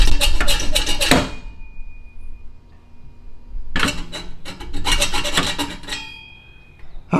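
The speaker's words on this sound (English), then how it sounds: "all I have is this handsaw right here" A handsaw cuts a nub off a BMW F30 exhaust in two bursts of rapid rasping strokes, loud and close, separated by a quiet pause, with a thin metallic ring lingering afterward.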